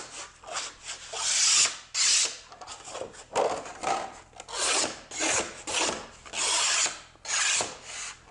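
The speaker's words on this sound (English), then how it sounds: "The first thing I do is to clean up the edges. And I do that just with a simple scrape." A putty knife scrapes along the edges of Formica laminate in repeated close, rasping strokes, each a rough burst with short pauses between, and no one speaking.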